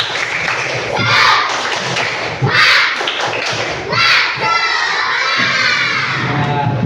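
Schoolchildren shout in unison and clap a rhythmic spirit clap, loud and close, in short rowdy bursts with thumping hits between shouts.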